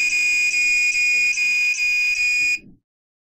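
A melody-selectable doorbell buzzer plays a tune, switch-selected, as a bright steady tonal beeping with slight pulses roughly every half second, loud and alone for about 2.6 seconds before cutting off abruptly, with a faint bump of handling after.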